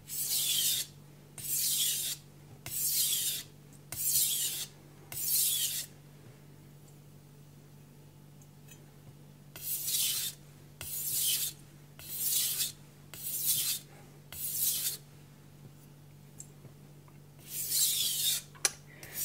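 Knife edge stroked across a Naniwa Gouken Kuroto 1000 grit whetstone, rhythmic gritty rasping strokes in three runs of about five passes each, close and moderately loud over a faint steady hum.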